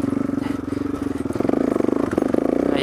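Dual sport dirt bike engine pulsing in second gear while climbing a rocky hill, a loud, close, rapid throbbing with rising revs and some clatter from the rough ground.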